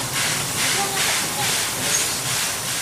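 A Japanese steam locomotive pulls into Senzu station, releasing a continuous, loud hiss of steam over a low rolling rumble, with slow pulsing surges as it slows.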